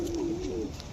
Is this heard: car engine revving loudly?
no